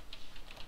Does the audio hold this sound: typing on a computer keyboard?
yes